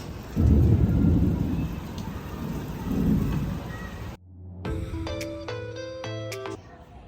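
Heavy rain pours with deep rolling rumbles of thunder, then cuts abruptly to quiet, sustained musical tones.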